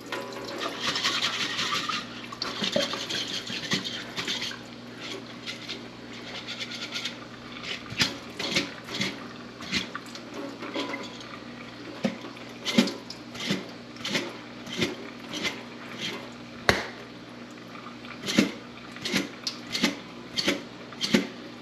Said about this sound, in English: I'm just being a little bit forceful with that rinse